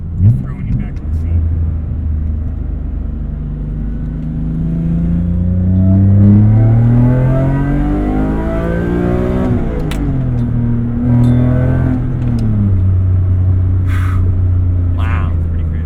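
A car fitted with a carbon fiber intake accelerates hard, its engine note climbing steadily through the revs, dropping at a shift, then rising again, loud and close from inside the cabin.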